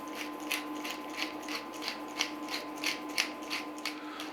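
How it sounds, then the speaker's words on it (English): A pepper mill grinds black pepper over a stew, giving about a dozen rhythmic gritty crunching twists close by over a steady hum. "And you can grind some pepper."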